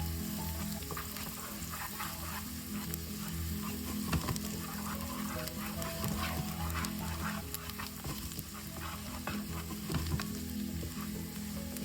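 Garlic sautés in an oil-filled pan for Filipino ginisang corned beef, a continuous loud sizzle with scraping stir strokes and small pops throughout, with no talking.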